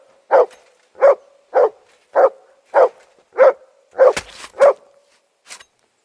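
Mutt the dog barking in Kingdom Come: Deliverance II, eight evenly spaced loud barks in a steady rhythm, followed by a faint final yip.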